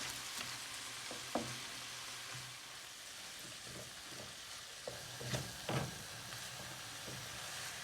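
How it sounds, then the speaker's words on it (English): Keema mince frying in a pan and being stirred to break up lumps, a constant sizzle with scattered scraping clicks and bumps of the utensil, a few louder knocks near the end. "Keep stirring it, break up all the lumps."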